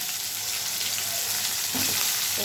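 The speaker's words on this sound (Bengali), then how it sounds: "আমি এটা এবার আলু দিয়ে দেবো আলুটাকে ভালো করে ভেজে নেব" Potatoes frying in hot oil with spices for an aloo potol dish give a loud, dense, continuous sizzle, close up, with a brief stirring scrape near the end.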